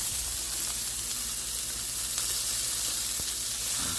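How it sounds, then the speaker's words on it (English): A burger patty just flipped sizzles loudly in a pan, a dense steady hiss of frying with a few faint clicks, close and uninterrupted, no voices. "Let me flip it."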